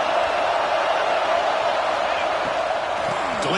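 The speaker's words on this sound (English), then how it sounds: "Listen to the crowd energy here in the early going" Stadium crowd at a Texas A&M college football game in NCAA 26, a dense continuous roar of fans filling the background, steady and loud with commentary voices over it.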